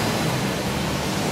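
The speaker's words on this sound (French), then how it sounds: "Ça y est, mon écrémeuse est lancée, donc je vais attaquer l'écrémage du lait." A centrifugal milk cream separator runs at a cheesemaker's dairy, giving a dense, steady rushing whir up close with no pauses.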